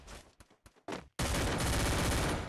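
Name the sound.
gunfire in the video game Free Fire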